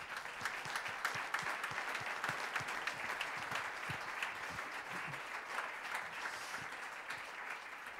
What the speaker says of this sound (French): je propose d'acclamer tous les speakers de ce soir